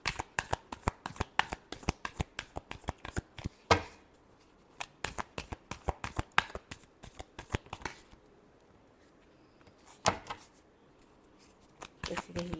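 Tarot cards are shuffled by hand in rapid riffling bursts, a dense flurry of crisp flicks that pauses briefly and resumes, close and moderately quiet.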